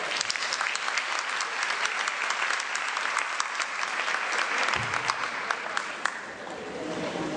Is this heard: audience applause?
yes